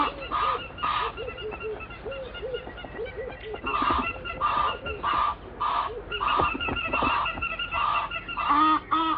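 Egyptian geese honk during an excitement display: loud, close, repeated nasal honks in rapid bursts that come in clusters throughout, sometimes overlapping.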